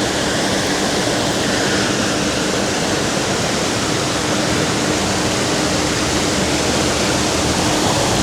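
A river rushes over rocks beside a small mountain town, a dense, steady roar of flowing water that stays loud and unbroken with no voices.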